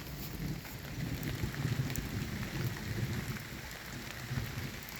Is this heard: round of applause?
no